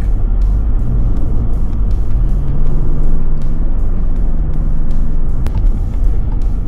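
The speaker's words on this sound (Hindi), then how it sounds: "आप ट्रैफिक चेक कर रहे हो। इस टाइम पीक आवर्स में बम्पर टू बम्पर होता है यहाँ पे ट्रैफिक।" Steady, dense road traffic at peak hour on Richmond Road, with continuous car and truck engine rumble, a passing heavy vehicle and a brief air-brake hiss, loud and close with no talking.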